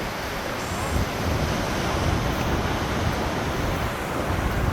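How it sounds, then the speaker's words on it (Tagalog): Strong Atlantic Ocean surf crashes onto a beach in a loud, continuous broadband roar, with wind buffeting the microphone and no voices. "Malakas ang alon."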